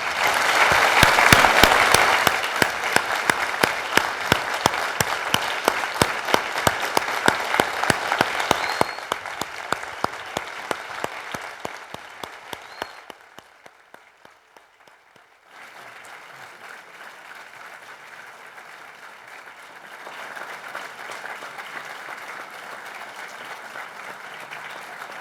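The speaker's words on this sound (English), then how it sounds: "I would ask everybody to give a round of applause to this public figure and poet, President Kim Dae-jung." Audience applause for former South Korean President Kim Dae-jung, a loud burst of sustained clapping with sharp individual claps that tapers off, drops to near silence, then returns as softer, steadier clapping.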